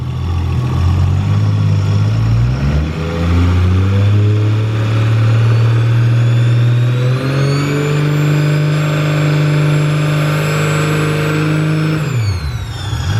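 A Nissan RB26 with a single turbo conversion runs close and loud at its first start-up, its engine note shifting in pitch before settling into a steady idle around 900 RPM, with a sharp drop at the end.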